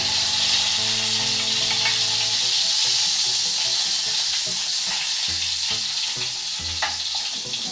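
Wet cornmeal batter sizzles loudly and steadily in a hot pan, with occasional sharper spatters and pops over the constant frying hiss.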